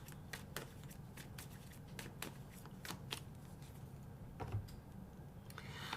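A deck of cards is shuffled to draw one, a quick run of crisp riffling clicks and flutters, close and fairly quiet, with no speech.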